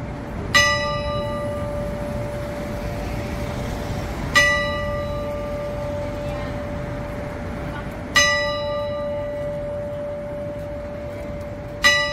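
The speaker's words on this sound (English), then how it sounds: "And we will be chiming soon." Church clock bells at St Dunstan's in the West on Fleet Street, London, ring out in four loud, clear strikes spaced about four seconds apart, each leaving a long ringing decay over steady city background.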